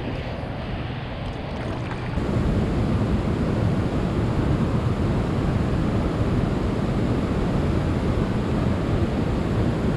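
Strong wind roars across a lake at Center Hill Dam during a fishing trip, a loud steady rush of buffeting noise on the microphone that swells after the first couple of seconds and holds without letup.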